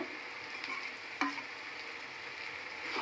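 A garlic and chili paste mixture sizzles as it is stirred in a hot pan, a steady frying hiss broken by a few scrapes of the utensil, heard close and alone.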